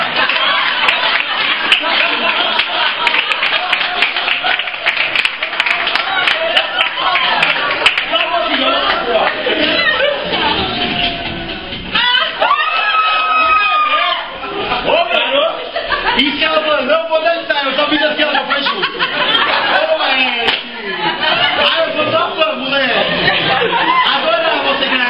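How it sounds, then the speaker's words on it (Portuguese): Dense studio audience noise with clapping and chuckles mixed under a loud talking voice, sustained throughout with a brief dip midway. "Vamos aplaudir a Hebe Camargo."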